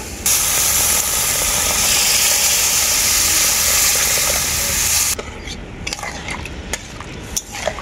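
Water poured into a sizzling spice paste cooked with raw tomato for a stuffed puti fish curry, a loud hissing burst of steam that cuts off, followed by quieter bubbling and clinks of stirring.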